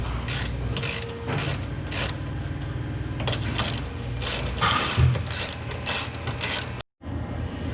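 A hand ratchet tightens bolts on an Eibach front sway bar being installed on a 2017 Dodge Challenger R/T, giving close, loud bursts of rapid clicking in repeated strokes, with a brief cut near the end.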